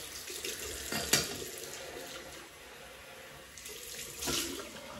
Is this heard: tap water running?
yes